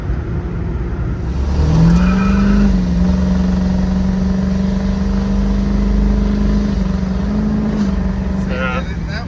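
Cabin of a Ford 7.3 diesel pickup with 232k miles, the engine droning loudly as it pulls and its pitch rises and steps as the transmission shifts, with a low steady road rumble throughout.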